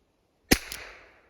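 A single sharp shot from a Safari 420 Flobert gun cracks close by in a forest, followed by a short fading ring and a faint second click.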